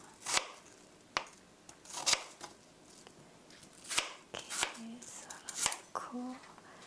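A knife slices apples thinly for an apple cinnamon cake, giving a run of sharp, close chopping strikes spread irregularly through a quiet kitchen, with a couple of soft clinks between cuts.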